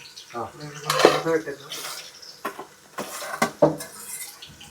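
A metal lid clanks onto a cooking pot of cabbage and chana dal curry on the stove, a few sharp clattering knocks amid kitchen sounds while people talk nearby.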